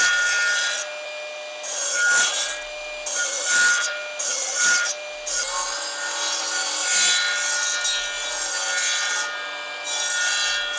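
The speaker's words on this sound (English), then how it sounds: "You can see that I've now limited this miter saw from going any lower than the cut I'm aiming for." Timber pieces being cut on a miter saw set to a fixed depth, with a loud, steady sustained whine that runs through most of the clip and dips briefly between cuts, with no talking.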